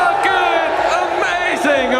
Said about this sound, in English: I never thought that you'd get the stadium to scream suck it.